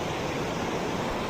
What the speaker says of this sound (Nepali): यहाँनिर तपाईँ देख्न सक्नुहुनेछ शारदा खोला अनि कोल्चौरे खोलाको सङ्गम रहेको ठाउँ